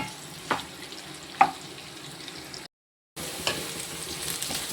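Tender pirandai (adamant creeper) frying in plenty of oil, a soft sizzle with a couple of distinct spatula knocks, close up, broken by a brief moment of silence before the frying resumes.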